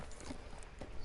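Horse hooves clop in Red Dead Redemption II, a few soft, close hoof falls in an uneven walking rhythm over a low background rumble.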